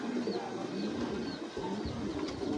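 A male super mili racing pigeon with stone-coloured eyes coos in low repeated pulses amid a steady murmur of other pigeons nearby.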